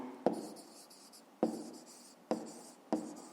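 A pen writes digits by hand on paper in four short scratching bursts, each starting with a sharp tap, close and quiet, with no voice over them.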